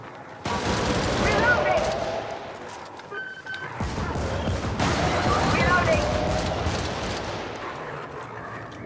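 Sustained heavy gunfire in a co-op shooter video game, dense overlapping automatic bursts filling the scene, briefly cut off before resuming just as loud.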